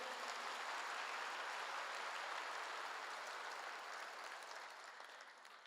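Congregation applauding during a sermon at a Korean church, a dense steady wash of clapping that fills the space and slowly fades toward the end.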